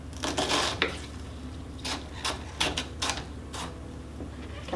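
Knife dicing an onion on a cutting board in a home kitchen for split pea soup with kielbasa: a run of several close, brisk chopping taps in uneven bursts, moderately loud over a steady low background hum.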